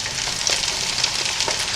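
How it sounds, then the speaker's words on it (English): Eggs sizzle in a frying pan with a steady, close crackle and small spitting pops, alone and without speech. "Looks like a frying pan and some eggs to me."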